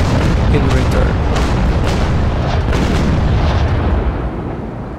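Heavy naval cannon fire from a sailing warship in the game Naval Action, a loud rolling series of booming shots blending into a sustained rumble that eases off toward the end.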